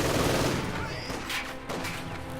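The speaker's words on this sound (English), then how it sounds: "And there MG42 opens up, stopping them right before they reach heavy cover" In the strategy game Company of Heroes 2, an MG42 machine gun fires rapid bursts amid battlefield noise, loud and dense for the brief stretch, with no talk over it.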